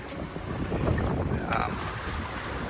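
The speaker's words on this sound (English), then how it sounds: "Have about 15 knots of wind, and we're doing a little over 5 knots downwind, fully loaded." Wind gusts over the microphone aboard a fully loaded sailboat running downwind at about five knots in fifteen knots of wind, a steady rushing roar with faint water wash beneath.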